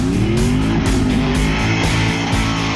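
A 1979 Pontiac Trans Am engine roars steadily at high revs, loud and close, with pitch rising and shifting as it accelerates hard.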